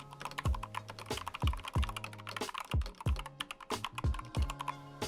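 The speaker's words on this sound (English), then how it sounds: "And here a small sound test of the keyboard." A gaming keyboard with optical OPX switches rattles through a steady run of crisp, close key clicks, with heavier thocks landing at a regular rhythm about twice a second, loud and alone.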